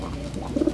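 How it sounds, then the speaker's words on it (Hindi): A pigeon gives a brief, close coo, a soft throaty warble lasting under a second. "पिजन, कबूतर।"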